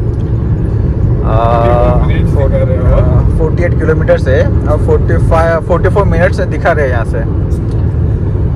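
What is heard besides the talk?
car driving on highway at about 120 km/h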